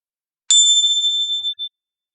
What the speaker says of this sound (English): Don't move until you can't hear the sound of the gong anymore.